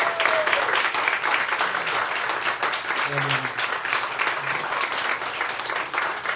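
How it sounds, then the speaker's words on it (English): Sustained applause from an indoor audience at a live-streamed event honoring guest speakers, a steady dense clapping wash with a few voices and cheers mixed in, continuing evenly throughout. "one more big round of applause for our fantastic guests"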